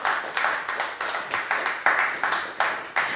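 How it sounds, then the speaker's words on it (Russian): A live audience claps at a literary evening in a Moscow bookstore, with steady, fairly close applause that comes in rhythmic bursts and carries no speech. "Ваши аплодисменты Лидии Худовой."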